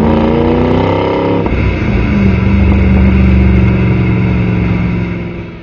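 A 2013 Ford Mustang Shelby GT500's supercharged 5.8-liter V8 revs hard, building from a rumbling idle into a loud sustained roar that holds steady before easing off at the end, close and with no talking.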